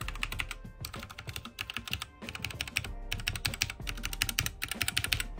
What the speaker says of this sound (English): for the keyboard, you have this mechanical keyboard